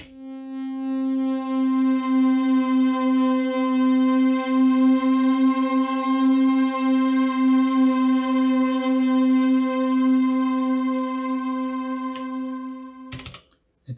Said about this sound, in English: It's just a long note that's slightly detuned and has some delay on it, and is a bit eerie, sort of.